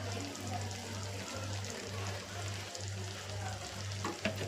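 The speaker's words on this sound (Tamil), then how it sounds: "இப்போ இதில் இந்த ஸ்டேஜில் நெய் ஊற்றிக்கலாம்." Ghee is poured into a hot pan and fries with a dense, continuous crackling sizzle, close and fairly quiet, over a steady low hum from the stove or kitchen.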